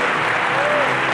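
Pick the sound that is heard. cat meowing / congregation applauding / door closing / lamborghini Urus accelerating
congregation applauding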